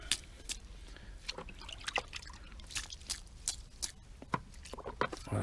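Water brushed onto a wall with a wide wet brush before plastering, giving a string of quiet wet splashes and drips in irregular bursts, close up and fairly soft, with no talking.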